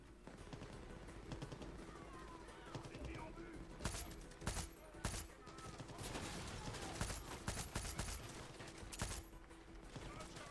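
Rifle fire in the video game Far Cry 6 cracks out in scattered sharp shots and quick bursts over a continuous game background hum, at moderate loudness, with some voice present.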